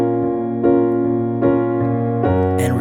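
A piano plays a song as a tutorial, with sustained chords and new notes struck roughly every second, full and close.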